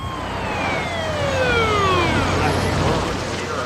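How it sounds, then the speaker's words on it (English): An ambulance siren wails as the vehicle arrives at an early-morning emergency rescue scene, loud and continuous with repeated falling pitch sweeps over a steady background rumble. "Within minutes, the ambulance also got to the scene."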